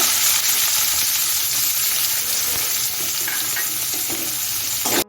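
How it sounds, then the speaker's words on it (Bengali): Chopped onion hits hot oil left from frying potatoes, with a loud, dense, steady sizzle and crackle lasting several seconds before cutting off abruptly. "এখন আমি পেঁয়াজ কুচিটা দিয়ে দিচ্ছি পেঁয়াজটা ঢেলে নেব"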